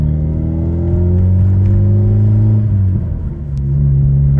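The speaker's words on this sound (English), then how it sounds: "Car's running better than ever." A 1992 Saab 900 2.1 naturally aspirated engine idles and hums steadily up close after a new crankshaft position sensor, its tones shifting slightly in pitch before settling, with no talking.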